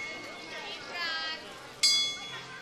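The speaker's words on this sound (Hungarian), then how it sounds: "Pont deletüt az óra, így megcsodálhatjuk a kis harangjátékot, ami évszázadok óta a város egyik jelképe." Town clock carillon in Sighișoara chiming midday, small bells ringing melodic notes in a bright sequence, with a sharper bell strike near the end, heard amid outdoor chatter and people talking.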